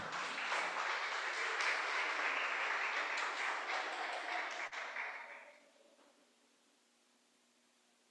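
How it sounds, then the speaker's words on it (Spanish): Congregation applauding in a church, a dense wash of clapping that holds steady for about five seconds and then fades out, leaving a quiet room tone. "Denle un aplauso al Señor."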